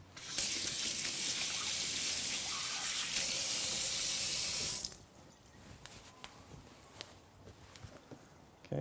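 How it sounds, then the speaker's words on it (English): Hands are rinsed under a running kitchen tap for about five seconds, a steady loud hiss of water that cuts off abruptly, followed by quieter scattered drips and small handling sounds. "I'm gonna rinse my hands off real quick."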